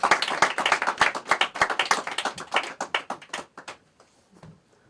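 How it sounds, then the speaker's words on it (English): An audience applauds a speaker at a talk, a burst of close, dense hand clapping that thins into scattered claps and fades to near silence by the end. "Give him a nice round of applause."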